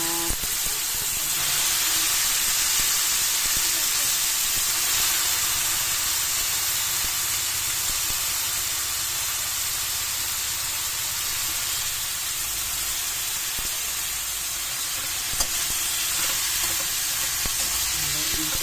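Bitter gourd (ampalaya) sautés with tomatoes in a hot pan, giving a loud, continuous sizzle and hiss. Soft stirring scrapes and clinks cut in now and then.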